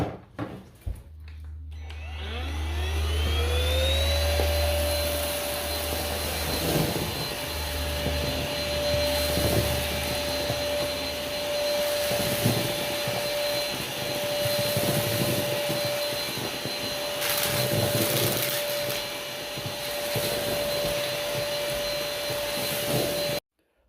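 An Easine H55 stick vacuum cleaner with a motorized head whirs up to a steady high-pitched whine and runs continuously close by, with scattered ticks and rattles as it picks up small dirt, debris and Skittles.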